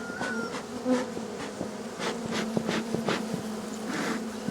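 Honeybees swarm and buzz around a beekeeper working the hives with smoke, a dense close hum with individual bees droning past, steady and fairly loud with no talking.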